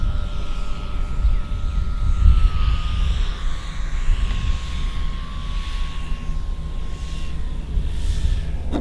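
Sig Kwik Bilt Cessna 150 radio-control model airplane on its maiden flight, coming in to land with full flaps, its thin electric motor whine sliding slowly lower, steady and moderately near over wind rumble.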